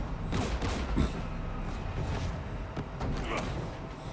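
Scattered bursts of gunfire crackle in a Mass Effect 3 battle against Geth anti-aircraft guns near a jamming tower, with sharp shots standing out over a steady din of combat and machinery.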